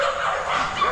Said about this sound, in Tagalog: maingay yung dogs natin